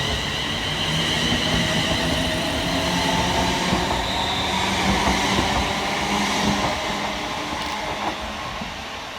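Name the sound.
Scotrail class 380 electric trains departing Lochwinnoch station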